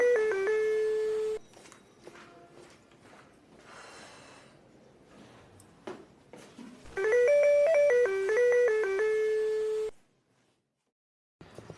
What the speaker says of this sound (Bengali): এখন আবার কে কলিং বেল বাজাইছে?